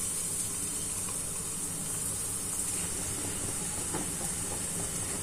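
Malpua batter spooned into hot ghee, giving a soft, steady hiss and fine crackle of frying that holds at a low level throughout, with no voices.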